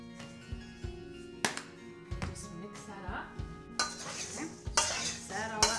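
Potatoes tossed and stirred in a bowl to coat them with olive oil, salt, pepper, garlic and house seasoning, with scraping utensil sounds, clinks against the bowl and moist rustling in irregular bursts, close and moderately loud.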